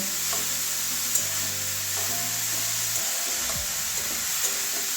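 Grated carrot frying in ghee in a pan, giving a continuous soft sizzle with a low hum and faint scraping ticks from stirring, no voices.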